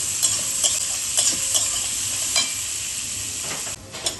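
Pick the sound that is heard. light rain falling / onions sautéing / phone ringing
onions sautéing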